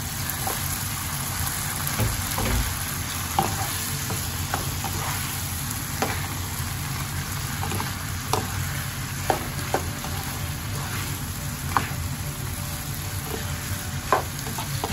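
Pork and tomatoes frying steadily in a pan for pork binagoongan, a constant close sizzle with light scraping and stirring taps scattered throughout.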